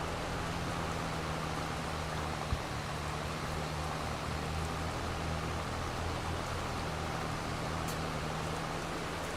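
Steady rain in Farming Simulator 22, an even, continuous wash of falling rain with a low engine drone underneath and one faint tick partway through.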